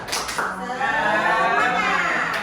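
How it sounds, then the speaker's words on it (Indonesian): Indonesian schoolchildren in a classroom doing a spirit-clap chant, a few quick claps followed by a loud sustained group shout of voices in unison. "untuk menyemangati siang ini kita tepuk semangat dulu"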